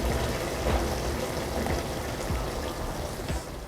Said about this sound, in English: Once you have a little bit of water bubbling and you can see the rice grains